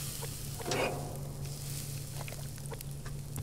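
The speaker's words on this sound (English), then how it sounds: "And let's cook the livers." Livers frying in the survival video game Subsistence, a steady close hiss of sizzling with a brief swell early on and faint clicks and stirring noises over a low hum, and no one talking.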